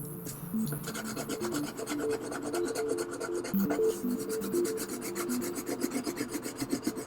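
A pink crayon rubs steadily back and forth across paper, filling in a rectangle with a continuous scratchy, rasping stroke sound, close and alone.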